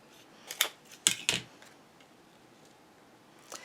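Scissors trimming paper along the bottom edge of a large handmade craft folio, a few quick crisp snips in a short cluster, then quiet, with one more faint cut near the end.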